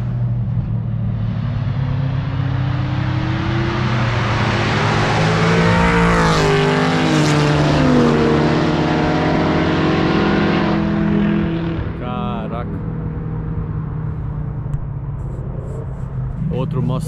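A Ford Mustang on a race track passes by with a rising then falling engine roar, heard from a passenger seat in an Ariel Atom 3 whose own engine drones steadily throughout.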